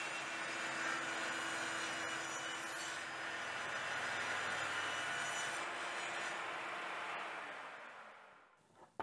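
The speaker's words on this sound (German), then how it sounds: "schneide ich mir das Holz erst einmal mit Übermaß zu" Wood cut to oversized pieces for a Strässler nutmeg mill model kit: a steady, continuous rasping cut running for several seconds before tapering off, close and fairly quiet, with no talk.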